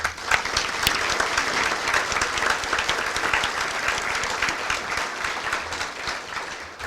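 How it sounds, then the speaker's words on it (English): A community gathering's audience gives a panel a steady round of applause, many hands clapping evenly at moderate loudness for several seconds with little talk. "take one more moment to give them a round of applause"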